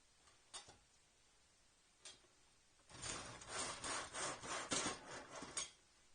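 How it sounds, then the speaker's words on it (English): Small wood trim cut by hand in an old handheld miter box, a couple of light taps, then a quick run of rasping back-and-forth saw strokes, close and fairly quiet. "the method I like to use to cut the small trim is I'll use an old handheld miter box"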